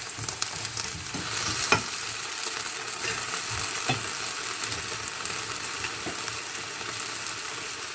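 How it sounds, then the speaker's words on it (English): Raw peeled potato slices frying in a few tablespoons of cooking oil in a pan, a steady crackling sizzle at moderate level with a few sharp pops and light stirring clatter. "Fry potato slices."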